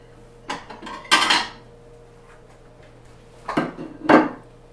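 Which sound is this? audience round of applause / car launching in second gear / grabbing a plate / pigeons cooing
grabbing a plate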